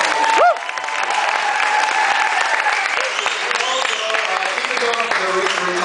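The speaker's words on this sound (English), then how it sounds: "I think we all need to give a big round of applause" Audience applause during a speech fills the room as a loud, continuous roar of many hands clapping, with scattered cheers and voices rising over it throughout.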